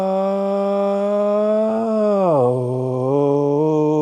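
A lone voice exhales on a sustained hummed pitch, holding a steady tone before sliding downward and wavering, sounding close and continuous with a slightly nasal quality.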